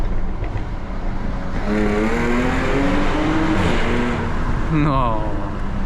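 Supercharged 3.0-litre engine of a 2017 Jaguar F-type revving, a loud rising growl with climbing harmonics, then a sharp blip near the end, heard from inside the car with speech faintly mixed in.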